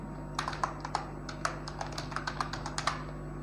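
Someone types code on a computer keyboard at a quick, uneven pace, each key tap crisp and close over a steady low electrical hum, with no talking.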